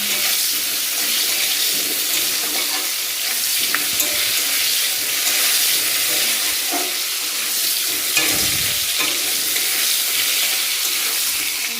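Pumpkin and pointed gourd pieces fry in oil with a bright, continuous hiss and crackle, broken by occasional clinks and scraping stirs, close and without speech.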